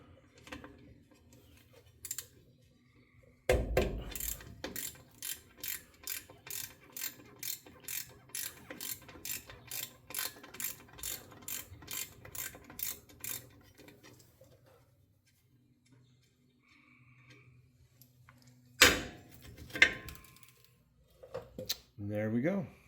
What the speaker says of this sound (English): Now you got to use like a Torx socket.